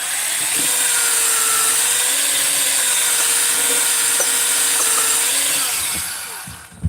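A drill spins a Scotch-Brite ball inside an engine cylinder chamber, a loud steady whirring and scrubbing hum held for several seconds before winding down, ending with a small clack.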